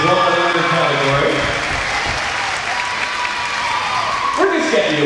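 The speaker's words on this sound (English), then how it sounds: "Give a round of applause." An arena audience at a youth skating competition, Battle of the Blades, claps in loud, steady, dense applause filling the whole span, with an announcer's voice heard over it near the start and end.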